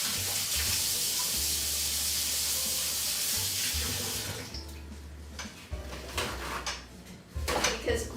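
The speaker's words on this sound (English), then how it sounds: "Now I'm going to quickly wash my hands." A kitchen tap runs steadily for handwashing, a broad hiss of water that thins and becomes more spattery toward the end as hands move under the stream, with no talk.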